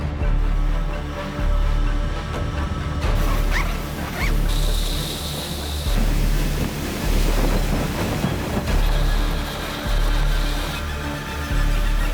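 Strong storm wind in Sarek, 20 m/s with 40 m/s gusts, buffets the microphone in heavy, rhythmic gusts, a loud roaring rush rising and falling every couple of seconds.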